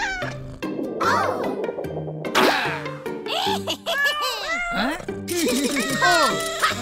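A cartoon kitten meows again and again, each call loud and close, over bouncy background music, with voices now and then.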